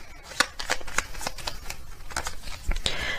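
Tarot message cards are shuffled by hand, a close run of quick papery riffles and flicks with brief pauses between bursts.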